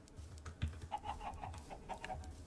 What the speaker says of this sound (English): Come on, chickens! Go faster! Come on, chickens!